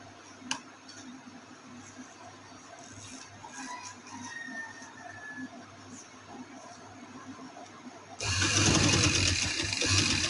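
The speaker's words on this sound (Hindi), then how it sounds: "उस पे हम ये सिलाई लगाएंगे इसके साथ साथ" A sewing machine stitches a V-neck seam on fabric, starting as a low, quiet whir and then breaking into a loud, fast, close mechanical rattle near the end, with no talk.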